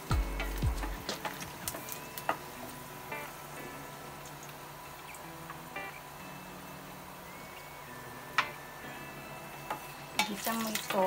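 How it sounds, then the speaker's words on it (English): Garlic sautés in a pan for misua, giving a steady soft sizzle with occasional stirring scrapes and clinks, close and moderately quiet, with no talking. "Gisang mo ito hanggang maging golden brown."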